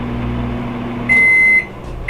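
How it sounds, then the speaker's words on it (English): A microwave oven heats Thanksgiving leftovers on low power with a steady hum, then gives a loud, sustained high beep partway through and starts a second beep at the end. "We're just going to heat this up in the microwave"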